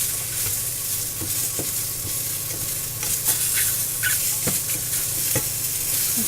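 Green beans and mushrooms stir-fry in coconut oil from a home garden recipe, a steady bright sizzle with scattered crackles and utensil scrapes, close and continuous with no talking.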